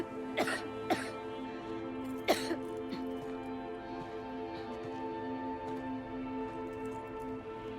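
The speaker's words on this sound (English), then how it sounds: "Better do something about that cough." A few sharp coughs in quick succession near the start, then another cough a moment later, from a character in Silent Hill 2, heard over a steady low droning tone.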